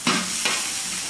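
Scallion and ginger dropped into a hot oiled wok after tofu has browned: a sudden loud sizzle that flares twice and then settles into steady frying noise, with no talking.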